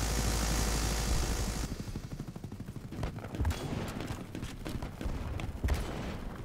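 A helicopter in the multiplayer shooter BattleBit Remastered makes a loud, steady rotor drone for the first couple of seconds, then a rapid barrage of gunshots and machine-gun bursts crackles over it.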